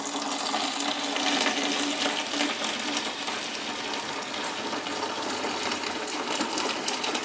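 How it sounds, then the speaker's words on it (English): Freshly boiled water pours steadily from a kettle, about a quarter gallon, making a continuous close, splashing rush that stays level for several seconds. "the kettle has boiled, and I am going to attempt to pour in about 1/4 of a gallon one-handed"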